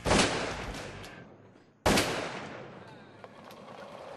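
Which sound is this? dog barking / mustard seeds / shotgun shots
shotgun shots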